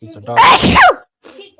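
A loud, sharp sneeze bursts out right after a brief spoken remark, followed by a short quiet pause and faint murmuring.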